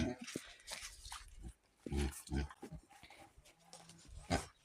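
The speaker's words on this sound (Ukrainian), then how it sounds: "Ой, свини." Pigs on a village farm grunt in short, low bursts at close range, several snorts clustered through the clip, with people talking nearby.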